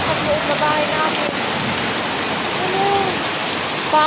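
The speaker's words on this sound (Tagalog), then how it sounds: "Papasok talaga yung tubig sa loob ng bahay nila" Floodwater rushing toward houses in a village, a loud continuous wash of flowing water close by with faint voices underneath.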